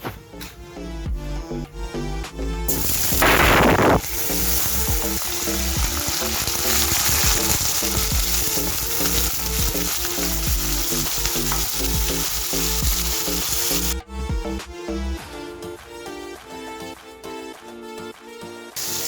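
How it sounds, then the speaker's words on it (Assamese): Paneer fries in a pan, a loud continuous sizzle that swells when the pieces go in and stays dense for several seconds, with occasional scraping stirs and no talk. "এতিয়া আমি ইয়াতে পনীৰখিনি ভাজি ল'ম।"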